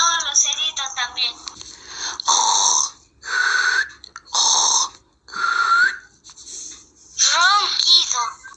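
A voice imitates snoring while telling a story, with several drawn-out, raspy breathy bursts separated by short pauses. The bursts are fairly close and of moderate loudness.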